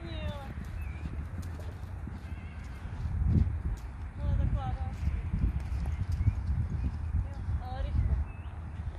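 Horse hooves clip-clop in a steady rhythm on the ground during a riding lesson, close and moderately loud, with birds chirping in the background and voices talking over it.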